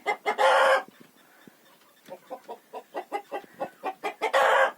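Farmyard chickens cluck in a quick rhythmic series, framed by loud bursts of rooster-like calls at the start and end, close by and without speech.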